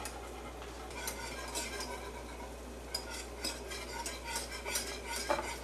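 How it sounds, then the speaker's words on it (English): Flour being whisked into a cheese sauce in a pan for mac and cheese, a soft, steady scraping and clinking of the whisk against the pan with light, continuous rhythm, fairly quiet and close. "Whisk it up. We don't want to have lumps."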